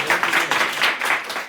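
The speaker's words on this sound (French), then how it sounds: "Applaudissements." Audience applause during a live stream, a steady burst of many hands clapping at moderate loudness through the short span.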